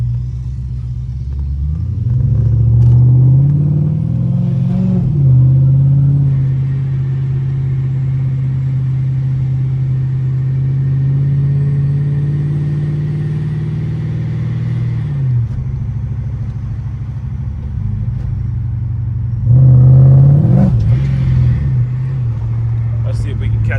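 A supercharged Chrysler 300C drives hard with a loud, close engine drone that rises and falls as it revs, briefly climbing in pitch at the start and again near the end over steady road rumble.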